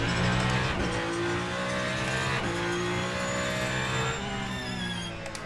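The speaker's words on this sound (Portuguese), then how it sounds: "Agora já parece estar um bocadinho mais preparado para podermos acelerar aqui no Ferrari." A Ferrari race car accelerates in the Le Mans Ultimate racing game: a loud, continuous engine roar whose pitch climbs and drops through quick gear changes, with no voices.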